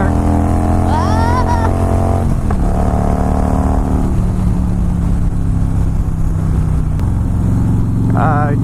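A Harley-Davidson Fat Boy S motorcycle engine roars loudly and continuously, revving up to redline with rising whines, and a voice speaks briefly under the noise.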